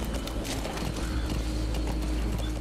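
Horse hooves gallop steadily in Metal Gear Solid 5: The Phantom Pain, a fast, dense clip-clop pounding under a thick wash of outdoor game ambience, loud and close throughout.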